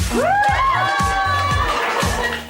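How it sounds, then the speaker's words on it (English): A group of girls screams excitedly at makeovers, shrill overlapping squeals that rise and swoop over a rhythmic thumping music beat, loud and close throughout. "They scream at the makeovers."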